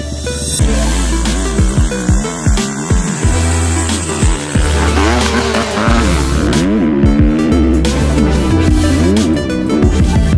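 Motocross bikes riding on a track, with loud, continuous engine revving that rises and falls through gear changes and throttle blips, filling the whole stretch without any talk.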